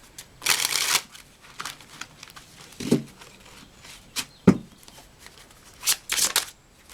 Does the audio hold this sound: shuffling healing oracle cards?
yes